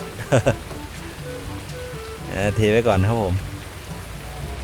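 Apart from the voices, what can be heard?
rain falling in video game Farming Simulator 19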